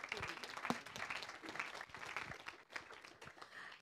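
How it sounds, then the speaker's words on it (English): Applause from an audience at a business event on investing in sustainability and tech, quiet and somewhat distant clapping with uneven bursts, faint voices mixed in. "big round of applause"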